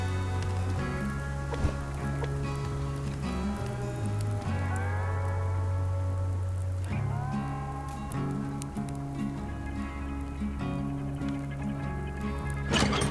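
Steady rain falls in a survival video game, a constant patter over a sustained musical soundtrack with low drones and shifting tones, and no one speaks.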